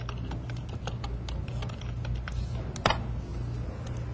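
Steady keyboard typing on a computer, a dense run of light key clicks over a constant low hum, with one sharper key strike standing out near the end; no voices.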